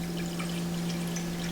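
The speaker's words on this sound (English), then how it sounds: "I'm going to add some water till it's about" Water pours steadily into a pot sitting on a stovetop hob for a sea moss drink, a soft continuous splashing stream with a low hum underneath and no talking.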